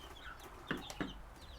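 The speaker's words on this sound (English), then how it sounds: "There's the ducks coming in to say hi." Faint clucking and squawking of ducks at a distance, a few short calls over low background hum.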